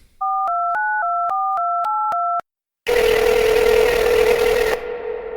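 Telephone keypad dialing tones for a call, a quick run of about nine loud touch-tone beeps in even rhythm, then a brief silence and a steady electronic ringing tone with hiss, ending abruptly.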